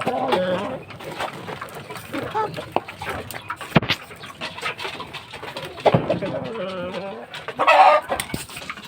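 Fighting cocks clucking and calling near at hand as they are fed in the late afternoon, with bursts of bird sounds and occasional louder squawks, while a person talks throughout.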